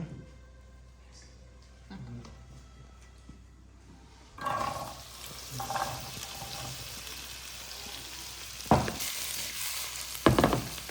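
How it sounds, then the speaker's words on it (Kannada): Okra (bhindi) frying in hot oil, a quiet start that swells into a louder hiss and sizzle after a few seconds, with sharp stirring clatters near the end. "ಎಣ್ಣೆ ಬಿಸಿಯಾಗಿದ್ದೆ, ಸ್ವಲ್ಪ ಕುರು ಆಗಿ ಬೆಂಡೆ ಫ್ರೈ ಮಾಡೋಣ"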